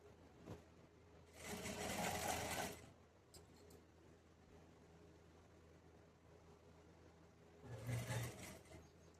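Sewing machine stitching pajama pant fabric in two bursts, a longer run near the start and a shorter one near the end, with a quiet stretch between and no talking.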